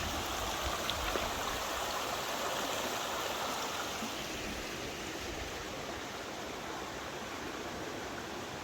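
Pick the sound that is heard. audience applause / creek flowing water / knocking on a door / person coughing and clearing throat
creek flowing water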